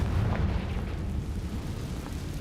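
A Confringo spell blast in Hogwarts Legacy, one loud, heavy booming explosion at the start that rumbles on and slowly fades under low background noise.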